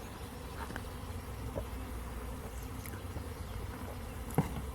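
Bees from a swarm on a tree branch hum in a dense, continuous drone close by, fairly even in loudness, with a single short knock near the end.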